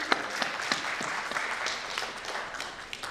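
Steady applause from a panel discussion audience at an editorial workshop, many hands clapping in a dense, even patter with a few sharper claps standing out, heard alone.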